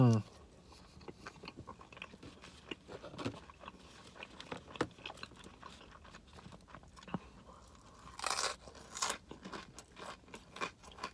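Crisp bites and crunchy chewing of a Panera flatbread pizza come close and loud in irregular bursts, with a sharper crackle of crust near the end.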